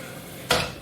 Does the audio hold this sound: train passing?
no